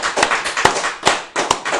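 A small audience claps for a guest at a hip hop talk show, several distinct sharp hand claps spaced irregularly, close and moderately loud with little else underneath.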